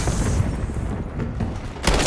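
Gunfire from a first-person shooter match in Call of Duty: Black Ops 6, a loud dense booming burst throughout the short moment with a sharp blast near the end.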